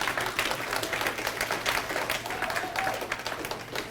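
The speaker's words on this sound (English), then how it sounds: "Give your own selves a hand clap today." An audience at a leadership talk gives a round of hand clapping, a continuous, fairly loud spread of many hands applauding for several seconds.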